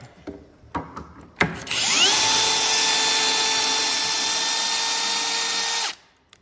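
Power saw cutting a mitered board: a few clicks and knocks, then the motor whines up to speed and holds a loud, steady tone for about four seconds before stopping abruptly.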